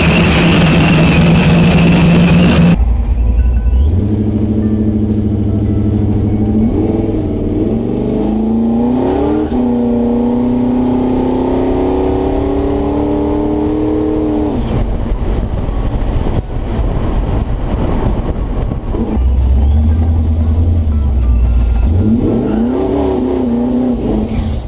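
A truck out on a test drive after its shift modulator was adjusted, the engine loud and close from inside the cab, climbing and dropping in pitch through several gear changes, with no talk.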